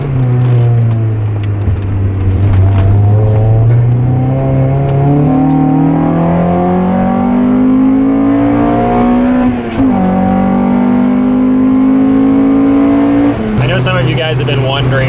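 A VTEC-equipped car engine pulling hard at full throttle, loud and close, revs climbing steadily through a long pull with a brief shift dip before climbing again.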